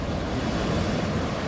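Strong trade winds sweep the exposed north coast of Maui with a constant, loud, broad roaring rush that does not let up, and no voices are heard.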